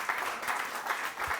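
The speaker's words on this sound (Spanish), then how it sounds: "Regálale un aplauso, Señor." A brief patter of congregational clapping at a Wednesday Bible study service, a short, continuous burst of many hands at moderate distance.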